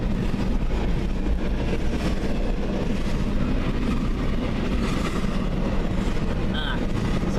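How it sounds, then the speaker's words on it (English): A steady, heavy rumble of a passing CN freight train in Ladysmith continues throughout, dense and unchanging, with faint voices underneath. "I wasn't expecting a Q train tonight, but I'll take it."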